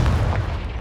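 A Confringo fire spell blasts in Hogwarts Legacy gameplay, a loud, low booming burst that rolls for under a second with a dense rumbling body.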